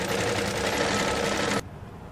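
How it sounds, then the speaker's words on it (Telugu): Sewing machine stitching blouse fabric, a fast continuous mechanical whirr for about a second and a half, then it stops abruptly, leaving quiet room tone. "ఇలా స్టిచ్ చేసేసుకున్నాం కదా."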